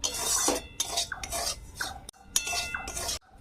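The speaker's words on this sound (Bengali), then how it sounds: "আস্তে দিয়ে কিন্তু সুজিটা ভেজে নিতে হবে" Semolina being roasted in a pan over a low gas flame, with repeated scraping and stirring strokes of a utensil against the pan in short rhythmic bursts, close and fairly clear.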